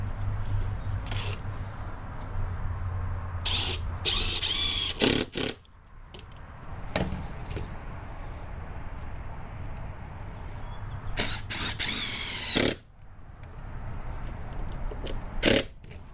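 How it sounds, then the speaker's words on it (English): A power drill pre-drills screw holes in a wooden wheelchair ramp, with two or three short bursts of whining drilling against low steady background noise. "Pre-drill the next one, same concept."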